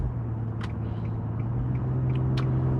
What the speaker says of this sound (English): And excuse the road noise, I'm sorry about that.